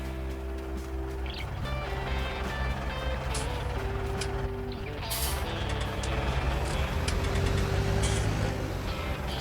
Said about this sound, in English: Let's just jump all back in the tractor.